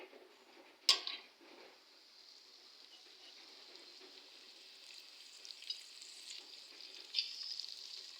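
Onion, garlic and green chilies fry quietly in a pan with a faint, steady hiss, opened by one sharp utensil clink and followed by occasional light stirring taps.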